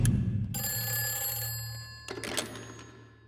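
An old-style telephone bell rings loudly in a continuous metallic trill, a dull thunk and a brief rattling burst following before the ringing trails off, with no talk over it.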